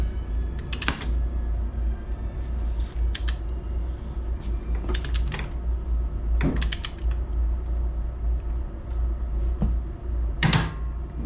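A torque wrench tightens a nut on a 2009–2015 Yamaha Zuma 125cc scooter during transmission belt and roller work, with several sharp ratcheting clicks and creaks at irregular intervals over a low steady background hum.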